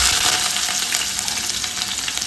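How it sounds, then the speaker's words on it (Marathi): Chopped onion sizzles in hot oil for a tempering, a steady bright frying hiss from a pan close by, continuous and without voices. "आणि हा कांदा मी फोडणीला देते."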